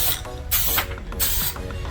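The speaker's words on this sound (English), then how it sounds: "all you need is a light spray to fix it" Short bursts of fixative aerosol hiss over a graphite drawing held about 10 centimetres from the page, two light sprays separated by a brief pause, close and fairly loud against a quiet room.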